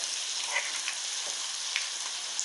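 Shallots and shrimp paste sizzle steadily in a hot pan during a stir-fry for pork with shrimp paste, a soft continuous frying hiss with a few faint pops, no voices.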